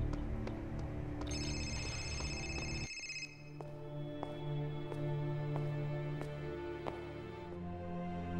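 An old telephone rings in the game Serious Sam 3, heard inside a dark tunnel or cellar of an abandoned castle. The ringing comes in bursts over a low ambient drone, and sharp ticking clicks repeat after the rings stop.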